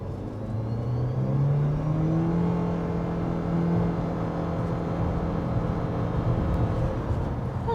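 A 2023 Mitsubishi Outlander PHEV pulls away from a dead stop and climbs a hill, giving a steady, moderately loud engine and road drone with a rising tone that holds throughout.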